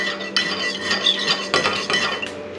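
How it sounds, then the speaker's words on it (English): A spoon stirs vanilla extract into a latte in a cup, giving close, repeated scraping clinks against the sides in an uneven rhythm, with no voices. "I'm gonna go ahead and just stir it up"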